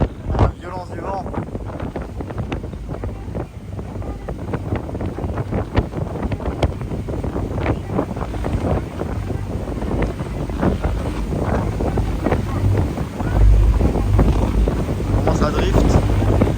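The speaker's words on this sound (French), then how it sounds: "Ah, il est terrible ce vent." Strong gusts buffet the microphone aboard a ferry, roaring and rumbling unevenly with a hard surge near the end, while a person talks briefly over the blustery noise.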